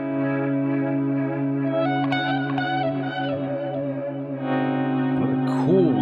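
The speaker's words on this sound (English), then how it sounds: "Another cool use of reverb there. A bit of delay. Really awesome effects." Progressive rock track with sustained layered guitar and vocal tones bathed in reverb and delay, echoing tails and swelling sweeps building toward a denser, louder close; no talking.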